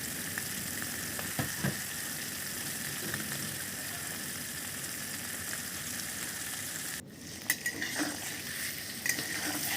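Mourala fish frying gently in a pan over a low gas flame, a soft continuous sizzle with occasional light clinks of a spatula, a brief dip partway through.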